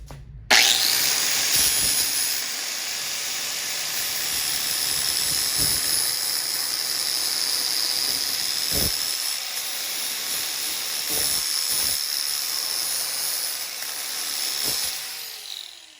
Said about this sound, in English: let's go and try out the flap disc.